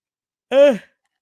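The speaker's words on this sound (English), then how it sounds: "here's a yawn for you guys." A single drawn-out vocal yawn, rising then falling in pitch over about a third of a second, close and clear against silence.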